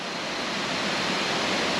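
Hin Lad waterfall on Samui roars as a steady, dense rush of falling water, continuous and fairly close, with no voices over it.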